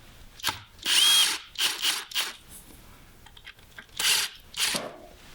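A power drill whirs in several short bursts, stopping and starting as it drives in a screw while wiring an electrical receptacle, close and fairly loud.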